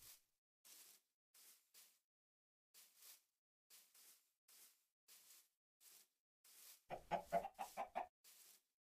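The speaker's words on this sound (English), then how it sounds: "Chickens." Chickens in a Minecraft-style video game village give a string of short, evenly spaced clucks, ending with a louder burst of clucking.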